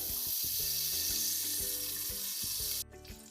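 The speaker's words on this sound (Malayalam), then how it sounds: "കുക്കർ നന്നായിട്ട് ചൂടാകുമ്പോൾ അതിലോട്ടേക്ക് 1 ടേബിൾ സ്പൂണോളം നെയ്യ് ചേർത്ത് കൊടുക്കാം" A tablespoon of ghee sizzles and crackles steadily in a hot pressure cooker, loud and close, with a constant frying hiss that cuts out abruptly near the end, and no talk.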